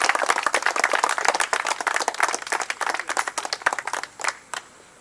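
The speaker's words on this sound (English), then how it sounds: "a round of applause for them once again" Guests at a wedding clap for the bride and groom, a lively patter of many hands that thins into a few scattered claps before fading out.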